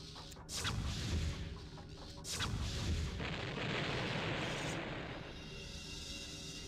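A barrel shot and blowing up in a dinosaur adventure video game, two loud booming blasts a second or so apart followed by a lingering rumbling roar that slowly fades.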